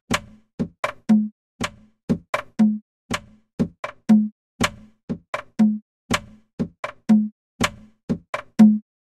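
A dry electronic drum pattern from an analog sequencer, automated, of short clicky hits and thuddy low knocks repeating in a steady looped rhythm, with no voices.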